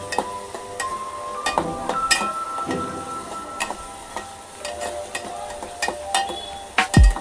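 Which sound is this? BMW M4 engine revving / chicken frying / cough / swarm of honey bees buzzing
chicken frying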